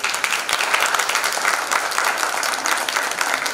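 A school exhibition audience applauds after a spoken piece, a loud, dense round of clapping from many people that stays full and even from start to finish, close to the listener with no voices.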